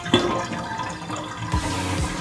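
Water gurgles and rushes steadily as it drains out of a bathtub full of bath-gel goo, close and continuous, with a louder surge near the end.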